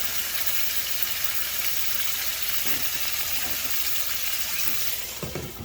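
Food fries in a pan right after being flipped, a loud, steady, close sizzle that runs unbroken for several seconds, then a few clinks and scrapes near the end.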